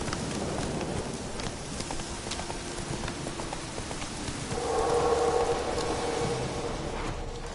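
Roach the horse galloping in The Witcher 3, steady hoofbeats thudding at a run amid a noisy outdoor game soundscape, with a brief tonal whine rising in the middle and no talking.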